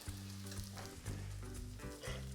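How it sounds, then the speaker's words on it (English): A tortilla sizzles as it fries in a pan for quesabirria, a steady close crackle running throughout with a strong low hum beneath it. "Let's put that down there to start frying."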